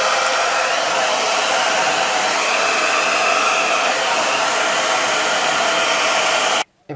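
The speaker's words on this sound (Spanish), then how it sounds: "Voy a por el secador de pelo para quitarle las marcas estas de aquí" A hair dryer runs steadily at close range while heat-smoothing marks on a handmade Easter basket, a constant loud whooshing blower hum that cuts out abruptly near the end.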